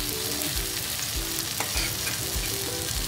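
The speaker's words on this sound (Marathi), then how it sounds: "आपण दोन्ही बाजूने आता त्यांना खरपूस भाजून घेणार आहोत" Bangda (mackerel) pieces pan-fry in oil, crisping on both sides, with a steady close sizzling hiss and a few soft low thumps from the pan throughout.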